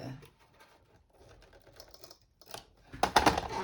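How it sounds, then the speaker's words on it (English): Adhesive tape is pulled and pressed onto the corners of a cardboard box: a quiet stretch of small handling sounds, then a loud, rasping burst of tape ripping near the end. "I'm going to use just a little bit of tape on each corner there"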